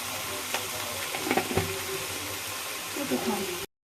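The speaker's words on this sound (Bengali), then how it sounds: "এখন আমি নেড়ে দেব। আমি এটা ঢাকবো না, এভাবেই ভাজবো।" Khesari (grass pea) greens with spring onions and salt are stir-fried uncovered in a pan: a soft, low sizzle with a few quick spatula clinks, fairly faint and brief.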